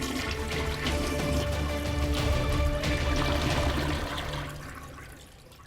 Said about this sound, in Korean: 재빨리 변기물을 쭉 하고 내렸죠